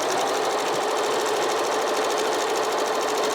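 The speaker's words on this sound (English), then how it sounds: "We're sewing on the bias. Notice how it takes 2 stitches forward and 1 stitch back." A Pfaff Select sewing machine stitching fabric on the bias with a stretch stitch, a fast, steady, close mechanical whir and needle clatter, loud and continuous with no speech.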